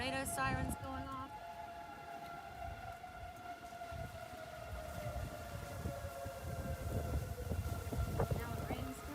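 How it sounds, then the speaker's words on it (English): Tornado warning sirens wailing across Jackson, Mississippi during a severe storm outbreak, long sustained tones that slowly fall in pitch, distant and steady beneath someone talking and rumbling wind noise. "Hear the tornado sirens going off."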